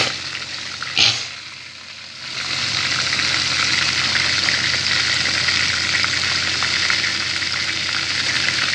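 Chicken wings marinated with seasoning fry in hot oil, a loud steady sizzle and crackle that swells after a brief dip and then holds constant at close range.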